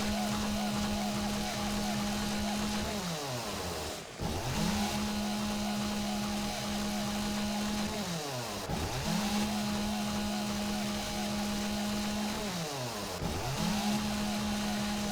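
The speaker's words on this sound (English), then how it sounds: "Sorry about the noise with the chainsaw." A chainsaw engine in the video game 7 Days to Die drones steadily, dipping briefly three times as it idles down and revs back up, loud and close.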